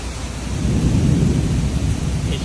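Heavy rain pours steadily during a big thunderstorm in Houston, with a deep low thunder rumble swelling and lingering beneath the hiss, loud and close with no talking.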